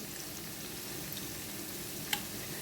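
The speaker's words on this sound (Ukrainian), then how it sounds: "М'ясо гарно підсмажилося вже" Meat sizzles in a frying pan for a Ukrainian cabbage-and-meat dish, a soft continuous hiss with faint crackles and one brief tick, fairly quiet and with no talk.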